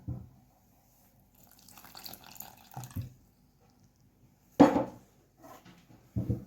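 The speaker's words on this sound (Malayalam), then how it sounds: "കുറച്ച് വെള്ളം ഒഴിച്ചിട്ട് നമുക്ക് മിക്സ് ചെയ്തെടുക്കണം ആദ്യം" Water is poured into a mixture for making instant condensed milk, with a few short splashing pours and gentle trickles separated by quiet gaps, close and fairly faint.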